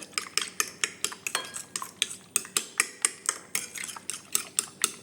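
Two eggs whisked in a bowl with a utensil, a fast steady run of clinking strokes against the bowl's side, close and clear with no talking.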